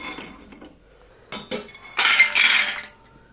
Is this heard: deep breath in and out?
no